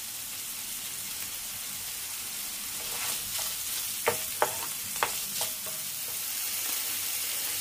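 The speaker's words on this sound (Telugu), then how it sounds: "మీడియం ఫ్లేమ్ లో పెట్టుకొని వేయించుకుందామండి." Chicken pieces frying in a pan on medium flame, a soft steady sizzle with a few sharp stirring clicks and taps midway, fairly quiet and without talk.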